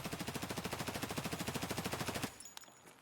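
A submachine gun in a video game empties a small 13-round magazine in one very fast, evenly spaced burst, loud and close, then stops, followed by a few faint clicks.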